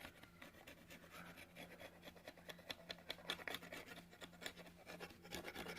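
A pocket knife blade scrapes and rasps across a piece of wood, shaving and smoothing it in repeated close strokes. The strokes are quiet and irregular, rising in clusters, with no voices.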